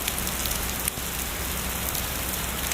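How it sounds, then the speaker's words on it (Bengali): Heavy rain pours down steadily outdoors, a dense, even hiss of drops on surfaces that holds at the same loud level throughout, with no voices over it. "এত বৃষ্টি হচ্ছে তাও কিন্তু আমরা থামিনি"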